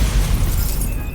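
Stupefy spell cast in the Hogwarts Legacy video game, a short, loud booming blast with a crackling burst that decays quickly into a fading rumble and a thin ringing tone.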